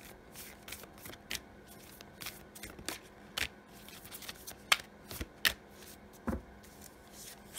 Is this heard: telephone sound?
no